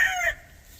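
A young rooster (stag) crows once, a short, bright call lasting about a third of a second before fading into quiet yard ambience.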